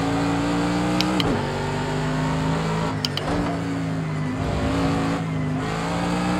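A high-pitched Formula 1 racing engine in the video game Project Cars 2 drones continuously, with several quick gear shifts and dips in pitch, loud and close throughout.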